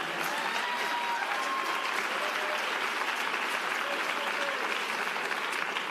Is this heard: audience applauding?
yes